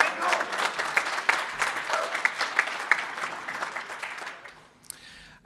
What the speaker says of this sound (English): I know you're going to cheer.